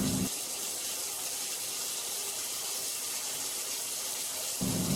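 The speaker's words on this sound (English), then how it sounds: "Start filling your bathtub with cold water." A bathtub filling with cold water from the tap, a steady broadband gush that runs continuously and close by, with no talking.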